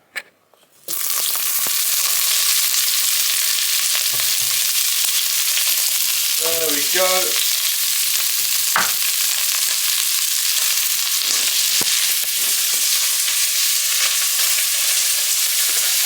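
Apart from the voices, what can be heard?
chicken thighs frying in hot oil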